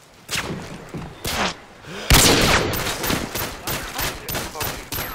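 Rapid bursts of gunfire in a shooting video game, loud and close, with volleys and single shots coming in a fast, uneven rhythm and a heavy blast near the middle.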